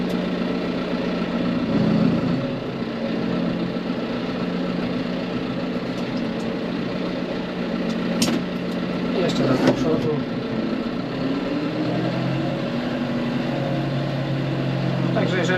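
A 2023 John Deere 5M tractor engine chugs and idles steadily at close range while driven in first gear, its low rumble continuing throughout with slight revving, under occasional background noise.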